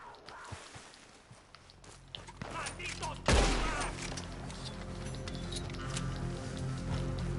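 A burst of gunfire from a Red Dead Redemption 2 firefight cracks out around the middle, a loud sharp blast over steady background game ambience and light movement noise.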